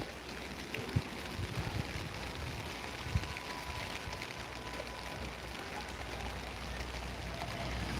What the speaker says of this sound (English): It's raining, I'm afraid.